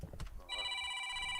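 Electronic telephone ring, a single bright trilling burst that starts after a brief patch of low room noise and holds steadily to the end, close and clear with no talking.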